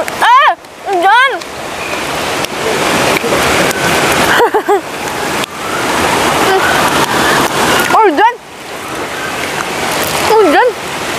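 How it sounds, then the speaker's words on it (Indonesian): Steady heavy rain hisses and splatters all around at Tukad Arca river in Karangasem, Bali, with people talking and exclaiming close by in short bursts over the downpour. "Hujan guys."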